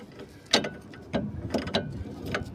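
19 mm socket wrench tightening bolts on an irrigation pivot, a few sharp metallic ratcheting clicks and clanks in irregular bursts, close and clear with no talking.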